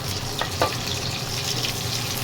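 Onions sautéing in a pan with golden-browned garlic for ginataang tulingan: a constant close sizzle with a few brief clicks of stirring, no talking.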